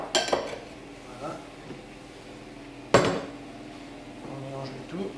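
Egg yolk being mixed into flour for shortcrust pastry dough in a bowl, giving a few scattered utensil scrapes and clinks, with one sharper knock near the middle and soft handling noises in between.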